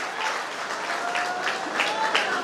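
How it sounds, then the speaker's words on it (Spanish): An audience applauds at a live performance, a dense, steady patter of clapping with a few sharper bursts, fairly close and sustained with no break. "Gracias chicos, gracias por esos aplausos"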